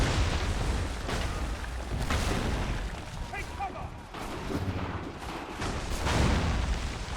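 Dense, booming cannon fire and explosions roll on continuously in an Assassin's Creed 3 battle, heavy and loud, with voices faintly talking underneath.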